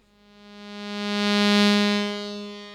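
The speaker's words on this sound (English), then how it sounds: "Let's have a bit of reverb, why not?" A single sustained modular synth note swells and brightens, then fades with a smooth, washed, reverberant tail.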